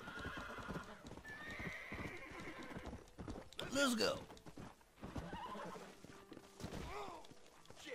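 Horse hooves clip-clop in a steady gallop rhythm in the video game Red Dead Redemption, with a loud close whinny midway, while someone talks over the action.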